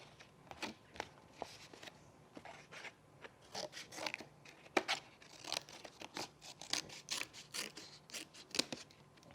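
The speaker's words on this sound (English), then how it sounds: "Now I gotta cut down the edges." Scissors snip along the edges of a flattened paper towel roll tube, a run of close, crisp irregular cuts and rustles with no talking.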